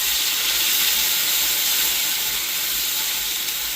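Onion and garlic paste hits hot oil with a steady, loud, broadband sizzle that holds evenly throughout, no voices over it.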